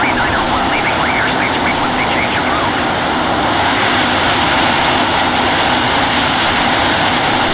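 An F-15 jet roaring loudly and steadily close by during takeoff on a touch-and-go at Monterey, a dense broadband engine rumble with a whining tone, while a voice talks over it.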